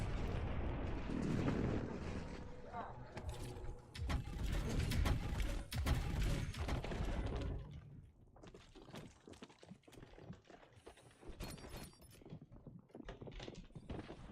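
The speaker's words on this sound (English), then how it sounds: "Hostile airstrike incoming." Airstrike explosions in Call of Duty Warzone, with heavy rumbling blasts and crackling debris loud at first, then fading into scattered distant pops and gunfire.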